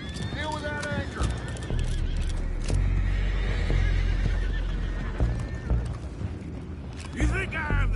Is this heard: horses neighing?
yes